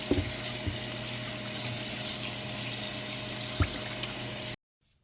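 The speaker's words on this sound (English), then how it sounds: "I'm washing the meat off." Water from a kitchen tap runs steadily into a sink while cut-up roast beef is rinsed, with soft splashes and clatter, then it cuts off abruptly near the end.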